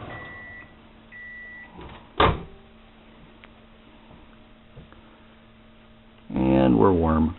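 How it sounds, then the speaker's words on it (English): A microwave oven hums steadily while heating punkwood, with short beeps and clicks of the door and controls early on, then a voice speaks loudly near the end. "why I'm using punkwood in the microwave"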